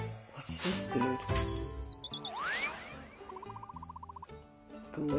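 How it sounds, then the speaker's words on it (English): A glitch bird in the video game The Plucky Squire gives off a burst of chirps, chimes and rapid warbling tones amid bright game music and effects, with people talking over parts of it. "We found a lost glitch bird."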